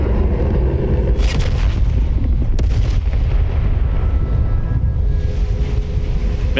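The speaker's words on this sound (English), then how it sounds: "Oh, that little explosion?" Explosion in the video game The Outer Worlds 2: a loud, sustained low rumble with sharp blasts bursting through near 1.3 and 2.6 seconds, then a steady roaring tail, with no voices.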